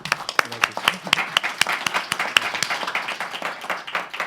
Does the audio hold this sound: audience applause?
yes